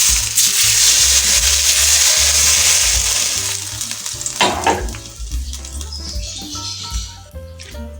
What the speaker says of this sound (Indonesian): Kita tuangkan minyak goreng panasnya ya Bunda.